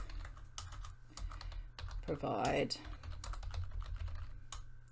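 Computer keyboard typing in steady rapid clicks, with a busier burst midway, under a person's quiet talk.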